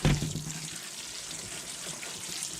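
Dried beans being rinsed under a running kitchen tap, with a steady close rush of water splashing into the sink and a brief clatter at the start, no talking.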